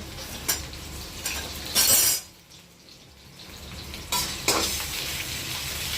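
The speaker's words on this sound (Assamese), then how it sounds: "পিঁয়াজ দি দিলোঁ। পিঁয়াজটো ফ্ৰাই কৰি দিব লাগিব।" Chopped onion sizzles in a pan over a full gas flame while being fried for shahi paneer, with bursts of stirring and utensil scrapes between the crackle and a short quieter gap.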